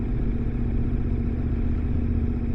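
Steady low engine drone of a motorcycle cruising on an open road on a solo ride, a continuous even rumble with no talk.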